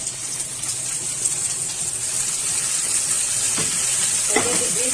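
Onions caramelising in a hot pan with peppers just added give off a steady, close sizzle and crackle, with a couple of soft utensil clinks toward the end.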